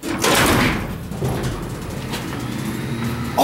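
Door of a modernized traction freight elevator, formerly an Otis, sliding shut with a loud rumbling whoosh at the start, then a lower steady mechanical hum that continues afterward.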